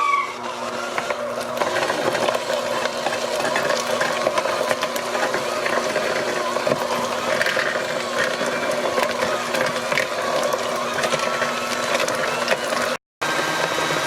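An electric mixer beats cut-up blocks of cream cheese for a gluten-free cheesecake with a continuous mechanical whirring hum. The sound runs steadily and close up, and near the end it cuts out briefly.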